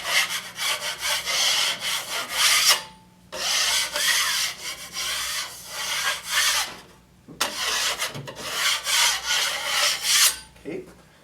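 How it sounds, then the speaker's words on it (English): High points on patched drywall are scraped off in long, loud, close rasping strokes, three extended bursts separated by brief pauses. "Now, I'm just going to scratch off any of the high points or any drywall that's sticking out."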